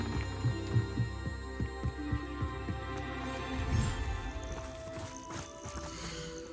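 Hippogriff sounds from the video game Hogwarts Legacy: rhythmic hoof-like thumps repeat steadily over a low game hum, with a louder burst midway and a fading, airy texture toward the end.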